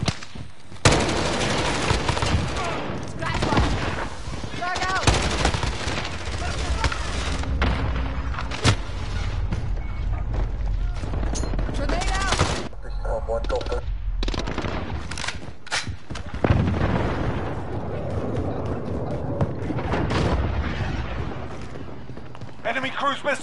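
Sustained gunfire in a military shooter game, bursts of automatic fire and heavy thuds packed densely together over loud radio-style voice callouts and game chatter throughout.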